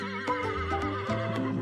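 A brown horse neighs close and loud, a shrill quavering whinny with a few wavering bursts that fills the short moment on its own.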